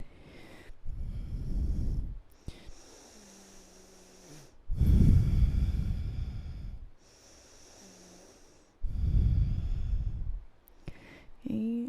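Slow, deep breaths during a yoga triangle pose in a live flow class: three long, loud airy exhales alternate with quieter inhales, close to the microphone with no talk.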